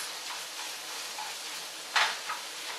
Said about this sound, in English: Just gotta keep moving any meat around, make sure it doesn't burn.